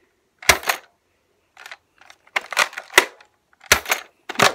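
Nerf Disruptor blaster dry-fired with no dart loaded: a series of sharp, close mechanical clacks and snaps from the trigger and priming action, some with brief whirring spin, separated by silence.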